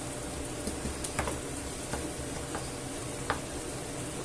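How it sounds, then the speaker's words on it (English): A spoon stirs a sausage, chickpea and potato stew with wine in a pot, making soft scrapes and a few light taps over a steady sizzling bubble. "And I'll give this a mix about."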